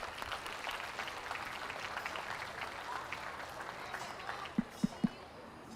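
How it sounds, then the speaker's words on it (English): Applause from the audience at a sheep and goat livestock show ring, a steady broad wash of clapping throughout with some crowd murmur, ending in three sharp, louder knocks near the close. "Big round of applause, if you would,"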